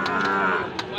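A Sahiwal bull at a cattle market gives a single short, close moo, with a faint voice in the background.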